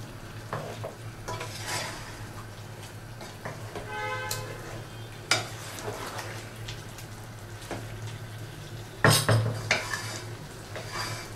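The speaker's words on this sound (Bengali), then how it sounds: "এবার একসাথে সবকটা কষাবো।" Chicken pieces with onions and spices stir-fried together in a kadai, a steady sizzle broken by metal spatula scrapes and clanks against the pan, with one loud clatter near the end.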